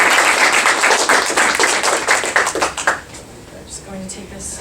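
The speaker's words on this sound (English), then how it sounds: "Just a quick round of applause." A brief round of applause at a university panel on energy security, dense clapping for about three seconds that tapers off into a few scattered claps and room noise.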